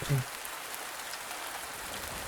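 Steady, loud rain in the video game VORON: Raven's Story, a constant broadband hiss of falling drops filling the scene, with a brief low voice sound at the very start.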